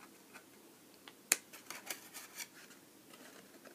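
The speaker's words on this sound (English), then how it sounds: "you can just, cut it off really simply" Scissors snip away a leftover paper ledge from a handmade mini shadow box card, a few soft close cuts with one sharper snip amid quiet handling of the paper.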